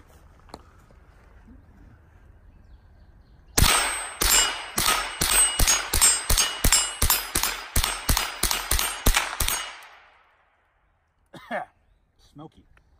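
A Marlin Model 60 .22 rimfire rifle empties its magazine in rapid fire, about fifteen sharp, evenly spaced cracks over six seconds, loud and close, followed by near silence and a brief voice.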